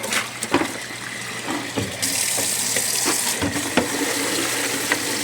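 Tap water runs steadily into a container to soak a net for a DIY guppy breeding cage, a continuous close splashing flow that grows brighter midway, with a few small knocks and no talking.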